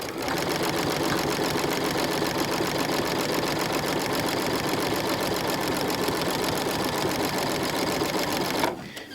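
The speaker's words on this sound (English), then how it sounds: "lift my presser foot, line up my fabric with the guide, and sew." A sewing machine stitches fabric strips for a quilt at a fast, steady rhythmic clatter that runs nonstop, then stops abruptly near the end.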